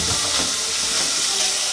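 Onions sizzling in olive oil in a pan while cooking a tartiflette, a steady close hiss of frying with no pauses and no talking.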